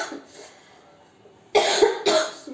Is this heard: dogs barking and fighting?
no